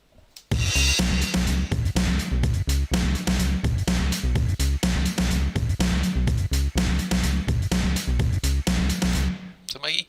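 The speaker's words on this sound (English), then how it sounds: "And if I play that with the drums, it sounds like this." Heavily distorted bass and big punchy drums playing together in a remix, a loud, dense groove with steady kick and snare hits driving throughout before stopping abruptly.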